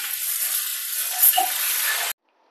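Dried red chilli, panch phoron and hing sizzling in hot oil for a tempering, a steady bright crackling hiss that cuts off abruptly near the end.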